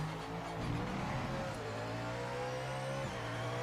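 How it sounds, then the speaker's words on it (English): Race car engines from the racing video game Project Motor Racing drone and rev steadily in a multiplayer session, heard fairly faint and continuous with shifting pitch, like in-car engine audio. "definitely beats it for the actual sound of the cars in this"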